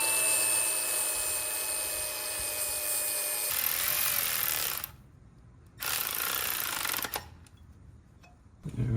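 A bolt for a Volvo B20 throttle linkage is cut down to length with a whining power tool that runs steadily, then stops and restarts in short bursts separated by quiet gaps.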